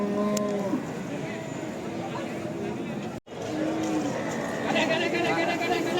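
Cattle moo repeatedly at moderate distance at a cattle market in Jatirogo, low drawn-out calls rising above a busy background of chatter and barnyard noise.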